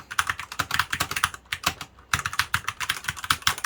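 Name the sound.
typing on E-Yooso TKL mechanical keyboard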